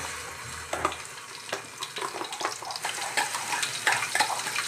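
A paste of onion, tomato and green chilli hits hot oil for a chicken curry, giving a crackling sizzle with uneven bursts and spatters plus faint pan and spoon clatter, close by and fairly quiet.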